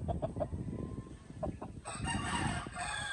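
A Native Warrior rooster clucks in short, soft bursts nearby, followed by a steadier rustling and hissy background, fairly quiet overall with no talking.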